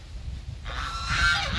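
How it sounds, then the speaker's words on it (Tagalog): A farmyard goose lets out a short, nasal honking call outdoors, close and clear, following a quiet stretch. "Ayan, gansa."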